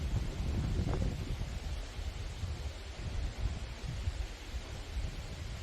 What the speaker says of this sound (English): The wind is picking up out here.